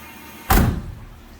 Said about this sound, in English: And when the window's up, the door needs to be shut a little more firm